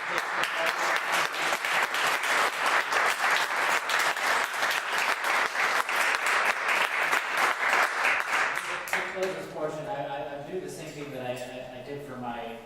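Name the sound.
audience applause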